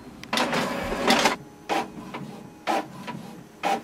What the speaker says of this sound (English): just press the copy button and wait for the printer to print.